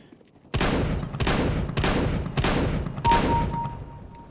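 An XM1014 shotgun fires five loud, evenly spaced blasts in Counter-Strike, each shot a sharp boom with a short decaying tail, roughly 0.6 seconds apart after a brief quiet start.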